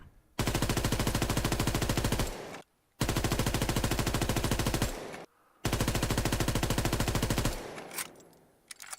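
Three long full-auto bursts from the M1941 Johnson rifle fitted with a grip in Call of Duty WWII, rapid loud rhythmic shots, each burst running about two seconds with short pauses between and a faint mechanical tail.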